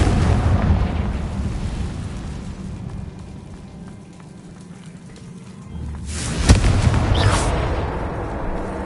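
A fiery blast spell explodes in the Hogwarts Legacy video game, a dense rumbling roar that fades, then a sharp loud boom followed by crackling debris.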